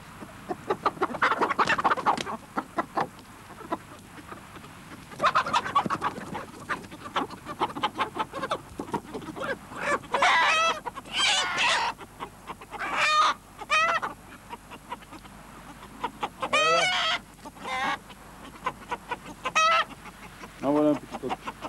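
A young rooster under six months old, kept for fly-tying feathers, clucks and calls in short bursts, close and fairly loud, with quieter gaps and some background noise between calls.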